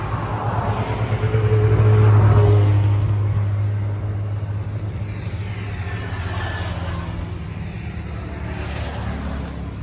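A used Yanmar 39 horsepower tractor, registered in 2015, runs nearby with a loud, steady diesel rumble that swells briefly as if revved, then settles back to a continuous idle.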